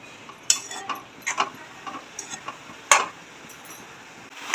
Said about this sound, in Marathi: हे सर्व आता छान प्रकारे मिक्स करून घेऊया